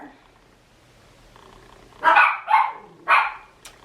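Small pet dogs indoors let out three sharp, yappy barks in quick succession, fairly close, after a quiet stretch with faint background murmur.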